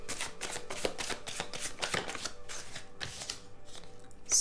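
Tarot cards being shuffled close by, a series of soft riffling bursts in an uneven rhythm, fairly quiet and with no voices.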